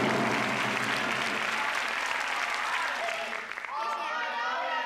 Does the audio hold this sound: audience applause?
yes